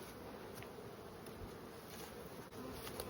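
Honey bees hum steadily at an open hive as frames of bees are moved to split a large colony into smaller ones, a faint, continuous buzz with no talk.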